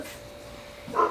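A female dog gives a single short, moderately loud bark at the very end, after a near-silent stretch.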